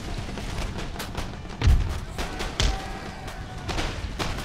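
Troops firing volleys in a battle in the strategy game Empire: Total War, with scattered cracks of musket fire and two heavier booms over a continuous rumbling battlefield din.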